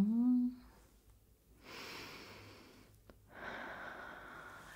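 Slow, deep breaths in and out during a calm ASMR doctor roleplay, first a short voiced sigh, then two long, soft airy breaths separated by a brief pause, close to the microphone.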